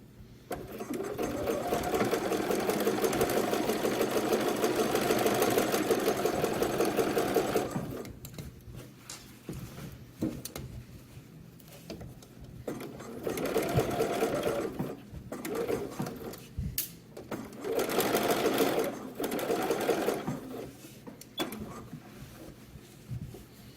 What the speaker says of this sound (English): I'm going to be sewing at about 3/8 of an inch around until I get to the placket